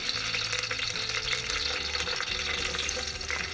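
Green chillies frying in hot oil for a mutton curry, a steady, dense hiss and crackle of sizzling that runs unbroken at moderate loudness, with faint low background hum beneath.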